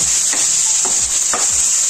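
Fresh spinach and plenty of coriander are stirred in a hot pan while they steam and sizzle; a loud, constant hiss runs underneath four distinct scraping stirring strokes.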